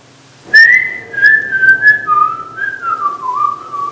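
A child whistles a wavering, meandering tune, clear and close, with no talking.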